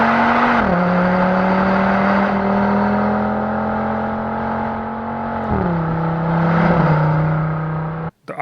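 Mercedes-AMG A45S with its M139 2.0-liter twin-scroll turbocharged engine, heard loud and close through the exhaust as a steady drone that drops pitch with two gear shifts, then cuts off sharply near the end.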